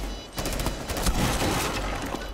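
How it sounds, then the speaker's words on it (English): Rapid gunfire in the tactical shooter Rainbow Six Siege, a dense fusillade of overlapping shots and bursts that runs continuously and loudly. "Why are you shooting bodies"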